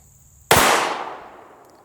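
A Winchester rifle chambered in 17 WSM rimfire, firing a 15.5-grain load, lets off a single sharp, loud report that cuts in suddenly, followed by a ringing tail that fades over about a second and a half.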